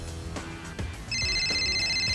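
A smartphone receiving an incoming call starts a bright, steady electronic ringtone partway through, after some soft handling noises, and keeps ringing loud and close to the end.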